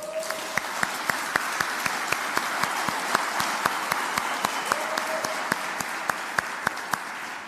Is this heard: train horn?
no